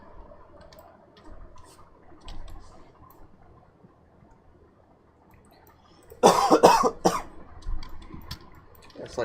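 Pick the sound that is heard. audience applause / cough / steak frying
cough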